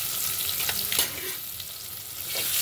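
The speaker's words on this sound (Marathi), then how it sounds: "आता हा कांदा आपल्याला चांगला लालसर परतून घ्यायचा आहे" Chopped onion with asafoetida sautéing in a pan for brinjal rice, a continuous close sizzle with light stirring clicks and scrapes, no voices.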